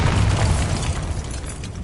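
The Bombarda spell blasts in Hogwarts Legacy as a single heavy, booming explosion with a deep low rumble that slowly fades.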